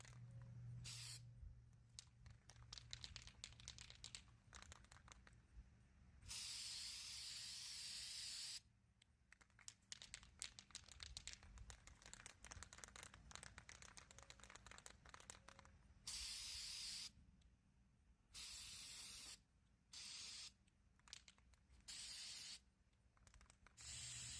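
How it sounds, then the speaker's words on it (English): Rust-Oleum textured spray paint hisses from a can onto craft pieces in several long, close, steady bursts separated by short pauses, with no talking. "We're going to take some Rust-Oleum textured spray paint and put a layer on both of these pieces."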